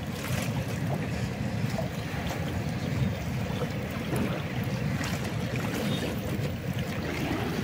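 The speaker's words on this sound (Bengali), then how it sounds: "জলের ঢেউগুলো আসছে।" Waves wash in continuously along an evening waterside, a broad steady rush of surf mixed with wind buffeting the microphone, loud and unbroken with no voices.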